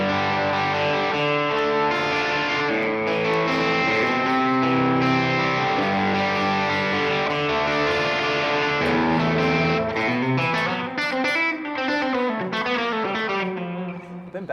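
Electric guitar run through a Toneking Imperial preamp with its reverb on, playing sustained chords and then busier melodic lines, loud and continuous with a driven, effected tone and reverb tail.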